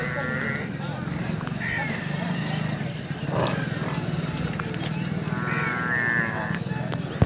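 Water buffaloes at a busy livestock market, with lowing calls rising over a steady crowd murmur and nearby talk, a few drawn-out moos standing out amid the continuous bustle.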